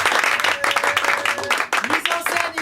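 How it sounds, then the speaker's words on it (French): A Paris theatre audience at Le Bout claps for the show's authors in dense, continuous applause, with a few voices and calls mixed in over the clapping. "on peut les applaudir."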